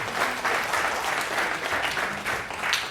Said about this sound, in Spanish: Dele fuerte aplauso.